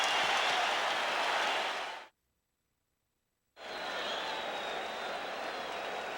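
A basketball arena crowd roars and applauds during Game 4 of the 1987 NBA Finals between the Los Angeles Lakers and Boston Celtics, a dense, distant wash of noise that cuts out briefly into silence before resuming.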